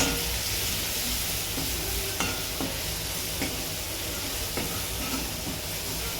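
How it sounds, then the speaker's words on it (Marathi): Food sautéed in a pan with salt and turmeric gives a loud, continuous frying hiss, with occasional light taps and scrapes of stirring throughout. "हे चांगलं परतून घ्यायचं"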